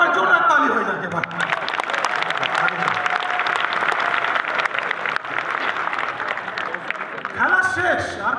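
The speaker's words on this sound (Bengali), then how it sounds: "এবার জোরে তালি হয়ে যাবে" A crowd at a motivational talk claps loudly and continuously, dense sustained applause with scattered chuckles and voices mixed in throughout.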